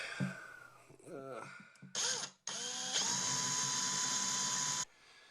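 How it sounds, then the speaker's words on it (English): A power drill with a 3/32 drill bit bores a pilot hole for a screw in wood for a root vegetable bin, a steady high whine held for about two seconds after a brief rev, following a voice talking. "And we'll get a pilot hole drilled there for a screw."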